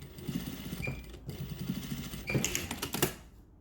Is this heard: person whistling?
no